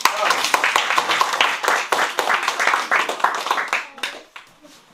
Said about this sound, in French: On peut t'applaudir.